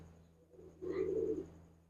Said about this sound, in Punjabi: ਦੇਖੋ ਬਈ ਕਬੂਤਰ